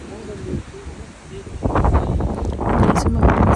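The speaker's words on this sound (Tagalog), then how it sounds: "yung maingay yung hangin" Wind gusting against the microphone on a hilltop in the Wellington Botanic Garden, New Zealand, a low rumbling buffet that grows louder and rougher partway through, with rustling on top.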